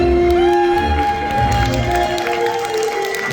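A hotel hall audience claps and cheers at a government policy briefing, with loud applause and crowd noise continuing throughout, mixed with sustained musical tones from the event's sound system.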